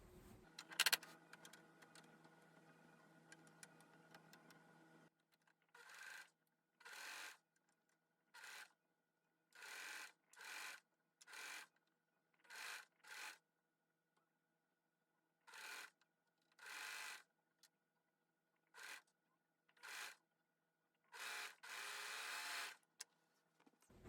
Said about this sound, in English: now I'm going to run these through the serger.